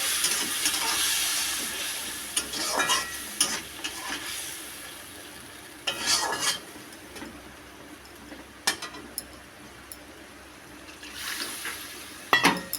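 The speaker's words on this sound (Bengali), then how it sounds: "জল দিয়ে দেবো" Water is poured into a pan of fish curry cooked without onion or garlic, coming in short splashy bursts separated by quieter gaps with light clinks, close and moderately loud.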